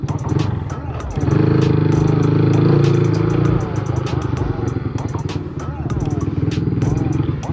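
A motorcycle ridden with a handlebar bag fitted, its engine droning loudly and steadily up close with a strong rumble that swells and eases, wind and road noise mixed in throughout.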